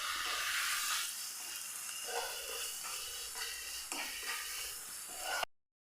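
A spoon stirs turmeric and garam masala into a hot pan, giving a soft, continuous sizzle with light scraping strokes. It sounds faint and close, with no talking, and cuts off abruptly at the end.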